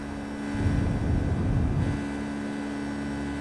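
Airliner engines in the X-Plane 11 flight simulator, a Boeing 757 climbing out of Princess Juliana, give a steady low roar and hum that swells briefly, then settles to a constant drone.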